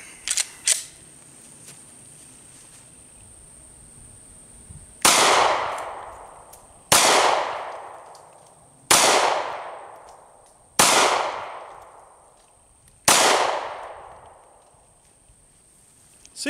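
Five sharp gunshots from 180-grain full metal jacket rounds strike a lawnmower outdoors, each a loud crack with a ringing decay, spaced about two seconds apart after a few quieter clicks.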